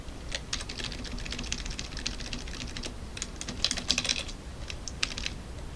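Rapid bursts of typing on a computer keyboard as code is entered, crisp clustered key clicks with brief pauses, close-up and fairly quiet, no voices.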